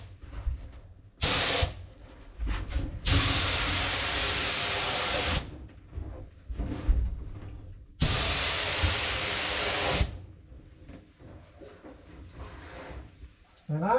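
Spray gun laying SPI epoxy primer onto a 1955 Chevy, heard as two long, loud bursts of broadband hissing spray separated by shorter spurts, handling clatter and quieter pauses.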